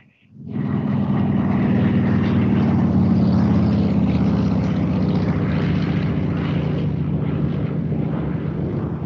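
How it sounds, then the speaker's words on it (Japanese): A Zero fighter plane's piston engine and propeller run at Yao Airport, starting abruptly and holding a loud, steady, throbbing drone close by for the rest of the clip. "八尾空港でゼロ戦を飛ばしてみた。"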